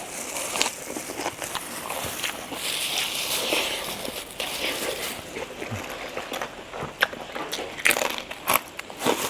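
Crispy food is crunched in a series of close, sharp bites and chewing sounds, with a faint voice now and then.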